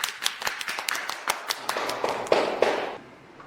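A small group claps in welcome for Su Nuan Nuan, the sharp claps scattered and uneven, building briefly and then trailing off.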